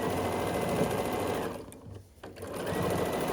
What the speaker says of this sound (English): and then I just continue sewing it